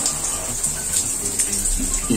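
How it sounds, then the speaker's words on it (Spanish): Water runs steadily from a hot tap in a hostel bathroom in Trujillo, a continuous close hiss with no break across the short stretch. "vamos a ver si sale agua caliente"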